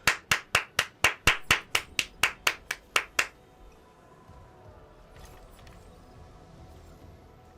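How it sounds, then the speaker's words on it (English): About a dozen sharp, evenly spaced hand claps ring out close and loud, then stop, leaving a quiet room tone with faint rustling. "A round of applause."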